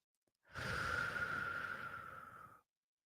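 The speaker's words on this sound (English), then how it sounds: "take a nice deep breath." One slow, deep breath taken during a guided meditation, a soft airy inhale that swells and holds for about two seconds before stopping, close and quiet with nothing else around it.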